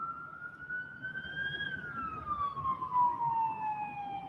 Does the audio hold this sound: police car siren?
yes